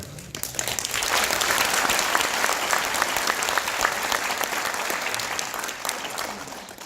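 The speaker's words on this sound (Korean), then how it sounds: "제 이름을 얘기를 하고 나서 박수를 치셔야 되는데 먼저 박수를 치시니다" An audience in a National Assembly conference hall claps steadily, a dense burst of applause that swells quickly and then slowly thins out.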